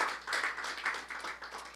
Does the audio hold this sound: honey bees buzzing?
no